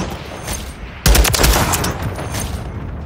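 Gunfire in Call of Duty hardcore free-for-all, a sudden burst of rapid shots after a quiet moment, followed by continued game noise and echoing fire.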